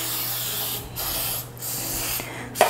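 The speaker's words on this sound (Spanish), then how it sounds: "yo voy a usar un poquito de aceite en spray" Cooking oil spray hisses from a can onto a pie mould in three short bursts of steady spraying separated by brief gaps, close and clear with no talking.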